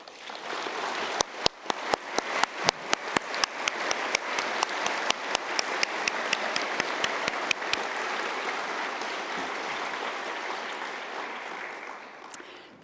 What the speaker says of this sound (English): So let's take a moment to recognise their care and encouragement with a warm round of